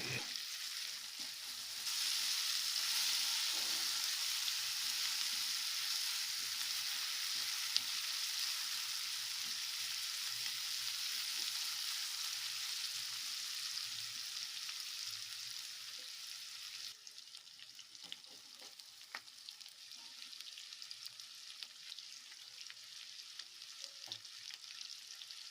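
Blended spinach (palak) fries in a pan with a long, steady, moderately quiet sizzle that softens partway through, with scattered light stirring taps and scrapes.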